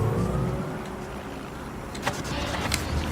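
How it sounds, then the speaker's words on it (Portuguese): Police car in Watch Dogs Legion, a steady low vehicle hum with faint mechanical whirring and a couple of brief clicks near the end, no voices. "Muita ousadia pegar o carro da polícia."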